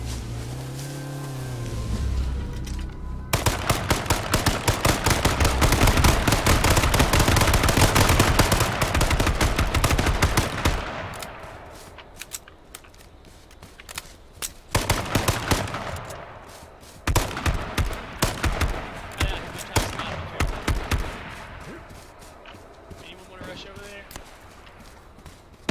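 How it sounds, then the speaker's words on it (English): Gunfire in a battle royale video game comes in dense rapid bursts and single loud cracks across the clip, with footsteps and quieter gaps, while players talk over it. "They have a sniper rifle? Yeah, they have a sniper."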